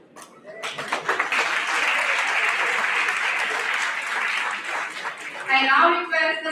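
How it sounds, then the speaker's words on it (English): Applause from a law-school moot court competition audience honoring award winners, swelling quickly and holding steady for several seconds before a voice comes in near the end. "Huge round of applause for best memorial winners."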